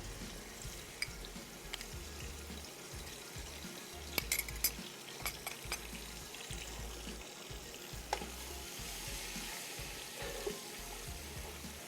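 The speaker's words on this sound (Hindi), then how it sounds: "अच्छी सी भुनाई करनी है ताकि लहसुन अदरक की जो स्मेल है वो ख़त्म हो जाए" Garlic-ginger and green chili paste fries for a chargha biryani masala, giving a faint, steady sizzle with occasional clinks of a spoon against the pan.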